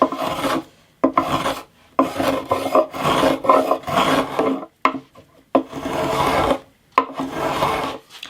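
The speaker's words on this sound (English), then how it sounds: "Now I'm just going to take off the excess material from this" A hand file rasps excess wood veneer off a vintage steel-string acoustic guitar being refurbished, heard as close, loud back-and-forth strokes in steady bursts with short pauses between them.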